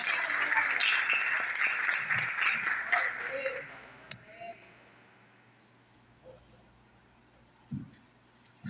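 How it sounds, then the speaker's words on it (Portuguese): A church congregation claps in applause for a few seconds, loud and dense, then fades into a quiet room with a few scattered knocks and a faint voice. "Vamos honrar ele com palmas."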